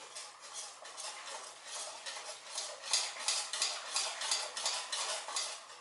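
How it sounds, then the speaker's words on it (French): A spoon steadily mixing a four-spice salmon and cod terrine batter in a bowl, a soft wet churning with regular rhythmic strokes close by, no voices. "Je viens bien mélanger dans mon appareil."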